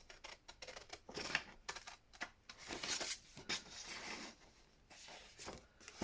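Scissors trim ephemera cut from paper book pages, giving a series of crisp snips and paper rustles, close and fairly quiet, irregular with short pauses between cuts and no talking.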